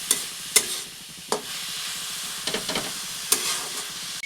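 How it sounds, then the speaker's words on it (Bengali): A vegetable chop mixture fries in a pan over a medium-low flame, giving a steady soft sizzle broken by several sharp scraping stir strokes of a spatula, close and alone without talk. "তো এটিকে এখানে প্রায় 2 মিনিটের মতো ভেজে নেব মিডিয়াম টু লো ফ্লেমে।"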